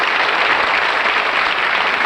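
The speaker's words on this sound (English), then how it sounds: "Good night, round of applause." Audience applause for a bowman at a stage show with a live arrow-catching act: a dense, steady wash of clapping from a crowd that fills the whole moment without pause.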